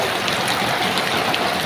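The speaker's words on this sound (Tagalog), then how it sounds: "Grabe, lakas ang ulan." Heavy rain pours down over flood water on a residential street, a dense, continuous rushing hiss with no pauses or talk.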